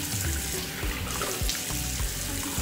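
Steady running water from a tap splashes into a sink during face washing and soap rinsing, loud, close and continuous with no talking.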